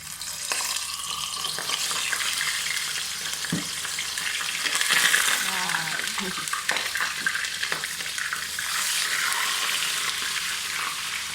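Fish sizzles and crackles loudly as it is deep-fried in a hot pan, a steady frying hiss that carries on throughout with a few faint clinks.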